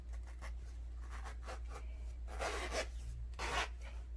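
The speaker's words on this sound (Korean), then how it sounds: "지퍼를 한번 닫아보도록 하겠습니다." A zipper on a sewn item, a concealed console-style zipper, is pulled closed in a couple of soft rasping strokes. The close, quiet scratchy sliding comes alone, without talk.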